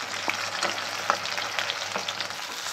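Fish sizzling in hot oil in a Bengali home kitchen, a constant frying hiss broken by a few sharp clicks and spits as the pieces are turned over, close and fairly quiet with no talking.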